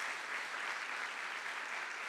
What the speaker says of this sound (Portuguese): Uma salva de palmas a esses irmãos